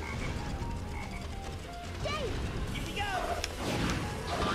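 Frog enemy croaking in the Sonic Heroes video game, several short warbling calls over busy game sound effects and music.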